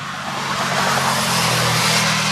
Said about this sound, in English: dealing with traffic,